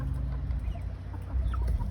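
Buff hens at an evening salad and fruit feed make low, soft clucks close by, a continuous murmur of contented chicken sounds with no talking.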